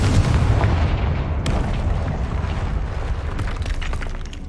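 A Confringo blasting spell erupts in Hogwarts Legacy on PS5 as a loud, sustained boom with a rumbling low end. Sharper cracking bursts are scattered through the few seconds it lasts, and no voices are heard.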